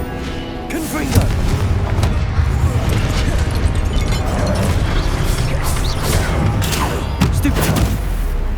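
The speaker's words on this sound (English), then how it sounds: "Confringo!" Confringo blasting spells exploding in Hogwarts Legacy on PS5, a loud continuous barrage of booms and crashing impacts with shouted spell names over the chaos.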